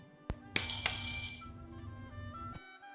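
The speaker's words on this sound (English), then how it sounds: "Just then, the doorbell rings." A doorbell chime from a Peppa Pig sound book rings out with two sharp bright strikes close together, followed by a sustained electronic tone with a buzzing backing that holds for about two seconds before cutting off.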